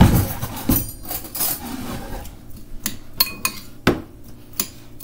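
A utensil stirs chickpeas and vinegar in a dish. It makes close, irregular clinks and scrapes against the dish, in short bursts separated by quieter gaps.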